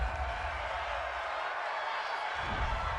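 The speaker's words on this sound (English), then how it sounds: "This home crowd, they're happy with that call" Home crowd at an NFL football game between the Washington Redskins and Detroit Lions, reacting to a penalty call as a steady, distant stadium roar that stays broad and even throughout.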